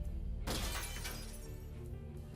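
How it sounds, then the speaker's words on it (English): A glass window shatters when a thrown brick strikes it, a sudden loud crash followed by a brief spray of breaking shards that fades over the next second or two. "I was happy to hear the satisfying sound of shattering glass"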